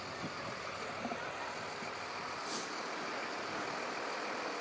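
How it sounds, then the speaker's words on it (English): A fire department ladder truck rolls past in a small-town Christmas parade, a steady low engine rumble with broadband road and crowd noise, fairly distant and even throughout, with a brief higher whine partway through. "There's the big ladder truck."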